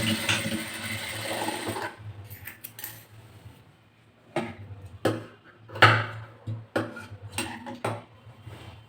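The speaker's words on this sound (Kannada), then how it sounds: "ಈ ರೀತಿ ಫೋಲ್ಡಿಂಗ್ ಮಾಡಿ ಸಂಜಾಪನ್ನು ಸ್ಟಿಚಿಂಗ್ ಮಾಡ್ಕೋಬೇಕು" Sewing machine stitching a folded blouse neck facing, a steady mechanical whir for the first two seconds, followed by scattered clicks and light handling knocks of cloth and parts, close and moderately loud with no talking.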